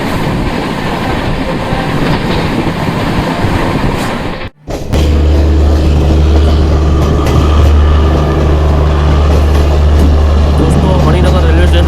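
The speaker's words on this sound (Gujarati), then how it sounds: "આપણી ગાડી અહીંયા નોન સ્ટોપ જઈ રહી છે" The 22959 Intercity SF Express between Vadodara and Jamnagar runs at speed, a loud, continuous rumble with rattling wheels; a brief sharp drop midway gives way to a steady low drone.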